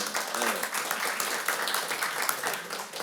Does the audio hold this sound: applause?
yes